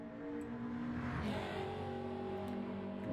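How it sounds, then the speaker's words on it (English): A race car engine in a racing video game drones at a steady, fairly quiet level, rising in pitch partway through as it accelerates, heard alone without talk. "And I can hear the car."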